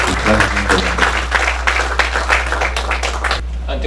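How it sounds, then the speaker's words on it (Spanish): Loud applause greets engineer Henry García, a renewable-energy consultant, at a chemical engineering week event, a dense crowd of claps with voices mixed in, close and steady before dropping off near the end over a constant low hum. "Recibimos con un fuerte aplauso al ingeniero Henry García, consultor en energías renovables."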